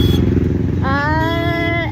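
A motorcycle loaded with luggage runs close and loud with a steady engine drone, and a rising whine appears partway through.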